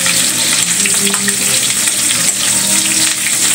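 Onions sizzle in a pan for Filipino bopis, a dense, loud, continuous frying hiss with faint stirring, close and without speech.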